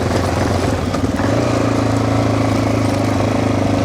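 A dual sport motorcycle engine runs hard at high revs in a low gear on an off-highway vehicle trail, a loud buzzing drone that holds steady with a slight rise, close by and without talk.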